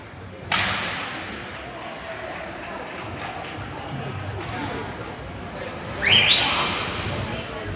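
A referee's whistle at a junior varsity ice hockey game in an ice arena, a sharp shrill blast rising late in the clip over crowd and rink noise, with a loud thud or slam of a puck against the boards earlier.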